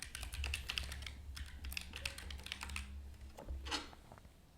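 Worn computer keyboard being typed on during a programming session, a dense run of clattering keystrokes with uneven rhythm, fairly close and steady for several seconds, no voice.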